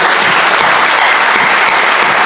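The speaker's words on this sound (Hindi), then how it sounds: "एक बार जोरदार तालियां बजा दीजिए" Loud, sustained audience applause at a kavi sammelan poetry event at NIT Jalandhar, a dense steady wash of clapping filling the whole stretch with no voices over it.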